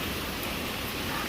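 Heavy rain falls with gusting wind in a steady, unbroken hiss that fills the whole moment at moderate loudness, with no voices.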